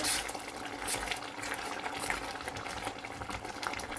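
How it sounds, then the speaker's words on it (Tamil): Village-style dried fish curry bubbles in a clay pot as oil rises to the surface, with a dense, steady burbling and popping heard close. "நல்லா எண்ணெய் புறந்து கொதித்து வந்துட்டுது"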